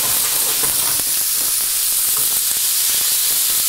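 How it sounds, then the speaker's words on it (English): Minced meat hits a hot pan and sizzles with a loud, steady hiss that holds without pause, close and unbroken, with no voices over it. "So in goes the minced meat."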